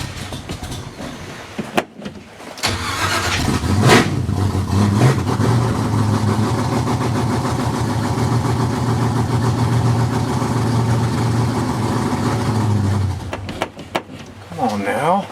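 A Chevrolet S10 pickup with a newly fitted transmission cranks on a cold day, then catches and idles roughly for about ten seconds before shutting off, heard close up with people talking over it.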